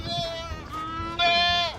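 A goat on a farm bleats in two wavering, nasal calls close by, with someone talking softly over and between them.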